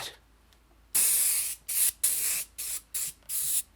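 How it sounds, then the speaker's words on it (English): A spray bottle of window cleaner hisses in six or seven quick bursts onto a Tesla Model 3 trunk and taillight, each a sharp misting spritz with brief silences between, close by and loud against a quiet room. "I'm just spraying some window cleaner on here"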